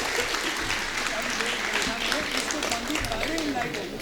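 A hall audience at a Kavi Sammelan poetry gathering in Palwal applauds in a continuous, thick wash of clapping from a large crowd, with voices murmuring faintly underneath.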